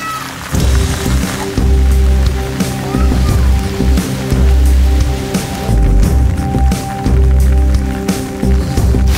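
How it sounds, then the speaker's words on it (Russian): Rain falls steadily in the village of Gorendu, making a broad, close pattering hiss. Heavy low thumps and rumbles recur through the rain, as if from movement near the recorder. "Идет дождь, но ничего."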